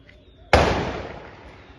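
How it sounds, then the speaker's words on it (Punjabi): A single sharp Diwali firecracker bang, loud and close, with a decaying echo trailing off over a second. "ਪਟਾਕਿਆਂ ਦੀ ਬਾਤ ਸੁਣ ਲਓ ਤੁਸੀਂ ਸਾਰੇ"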